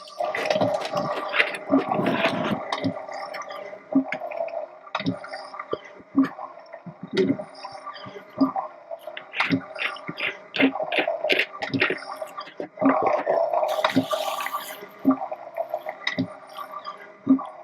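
Irregular gurgling and squishing water sounds with rhythmic pumping bursts from a boat's fresh water making pump, close by, continuing steadily with brief pauses.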